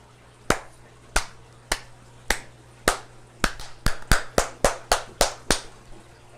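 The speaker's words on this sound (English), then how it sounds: "Round of applause." A single person claps about a dozen times in an uneven rhythm, sharp and close, quickening toward the end, in a fish room filled with aquarium tanks, with a steady low hum underneath.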